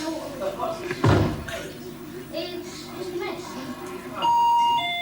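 Musical doorbell chiming out a tune before going haywire, with a bright electronic melody near the end following a door slam, while a person talks over it.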